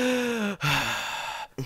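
A voice imitates loud breathing through the nose, a couple of heavy, drawn-out breaths with short pauses between them, close and alone.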